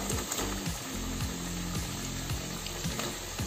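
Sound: French fries frying in hot oil

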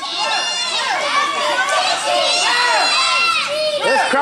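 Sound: wrestling crowd shouting

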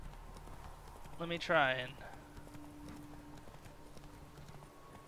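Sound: horse galloping in video game The Witcher 3

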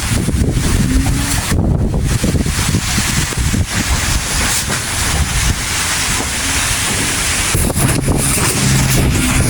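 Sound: strong wind

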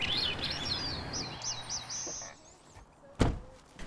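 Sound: songbirds dawn chorus at a wildlife refuge at sunrise

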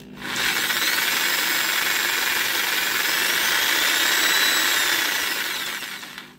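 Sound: DIY automatic paint mixer agitating a paint bottle

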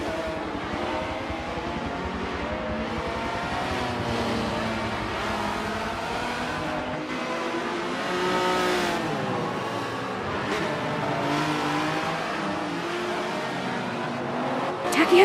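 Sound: race cars at Circuit de Catalunya in video game Forza 7

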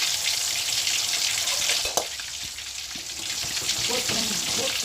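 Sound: mutton meatballs frying in hot oil in a pan

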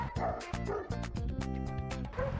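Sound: dog barking

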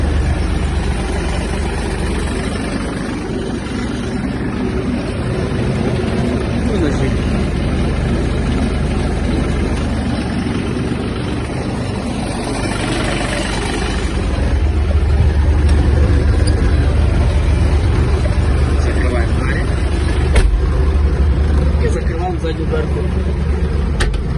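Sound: Yanmar EG-230 mini tractor engine running, PTO shaft spinning

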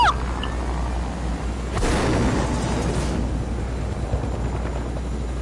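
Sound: helicopter in a video game

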